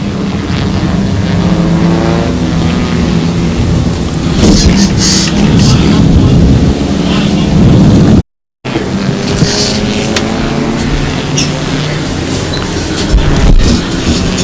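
Race cars roar around a racetrack as a green flag restarts the field off turn four, a dense, loud, continuous engine drone with rising pitches of cars passing, briefly cutting out mid-clip.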